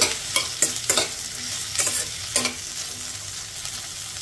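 Okra pieces and onions sizzle in a pan over steady background frying, while a spatula scrapes and stirs in several quick, separate strokes.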